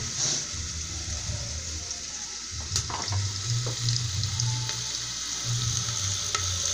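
Ingredients sizzle and fry in a pan as the base for a chicken feet broth, with a steady crackling hiss and occasional stirring clatter close by.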